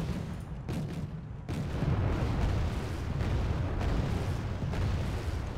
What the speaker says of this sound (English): Let's do missile strike on the back one.